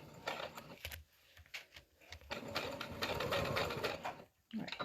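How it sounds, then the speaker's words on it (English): Domestic sewing machine running a short back stitch, a close, steady mechanical whirr that starts and stops in several bursts across the clip. "do a little back stitch"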